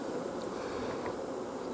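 Honeybees at an open hive hum in a steady, dense, close buzz that holds unbroken throughout, with no voices.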